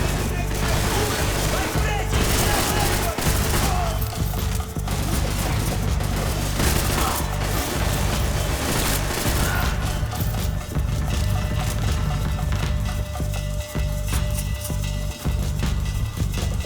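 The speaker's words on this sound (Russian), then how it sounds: "Кто-то стреляет." Rapid gunfire in Max Payne 3 slum level, dense overlapping shots and splintering impacts throughout, loud and continuous with game ambience underneath.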